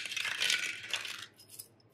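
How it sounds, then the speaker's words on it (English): Quarters drop and clatter against one another in a short, bright metallic jingle, loud at first and then trailing off into a few lighter clinks. "Quarters are a little louder, y'all."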